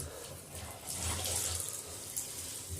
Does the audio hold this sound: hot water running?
yes